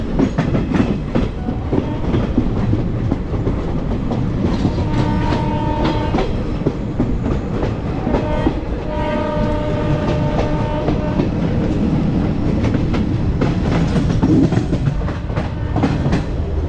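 The Agartala Garib Rath train passes close by in a loud, continuous rumble with rhythmic clickety-clack of wagons over the rails and sustained metallic whining tones rising over it midway. No voices.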